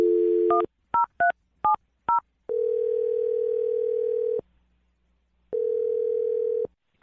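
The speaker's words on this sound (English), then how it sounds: "I'm going to dial the phone number right now." Telephone touch-tone dialing: a quick series of distinct beeps, then a steady ringback tone sounding twice with a pause between, loud and clear.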